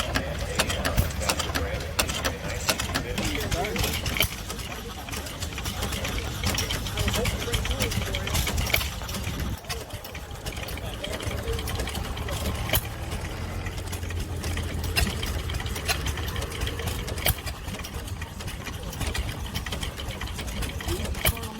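Antique gas engine running at a tri-state gas engine and tractor show, a steady mechanical chugging and clattering throughout, with someone talking over it.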